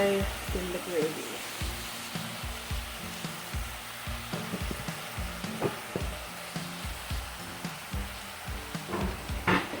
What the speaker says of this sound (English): I'm stirring it all up. It breaks it apart into much smaller bits.